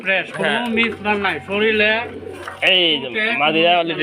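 Pigeons coo repeatedly at close range, their soft throaty calls overlapping with someone talking throughout.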